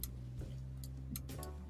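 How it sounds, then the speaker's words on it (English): A clothes dryer tumbling a load of kids' clothes gives faint knocks and ticks in an irregular rhythm over a low steady hum, heard in the background with no talk. "If you hear some knocking in the background,"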